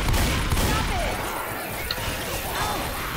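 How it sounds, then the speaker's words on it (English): Combat in the video game Left 4 Dead 2 erupts with a pipe bomb blast, a burst of rapid explosive cracks and gunfire over chaotic game noise, with faint voices in the mix. "Pipe bomb out!"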